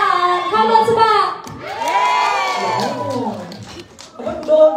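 Audience at a Star Magic Music Room live show cheering and shouting for two singers; loud crowd voices and whoops rise and fall throughout, mixed with some clapping and a person talking over the noise.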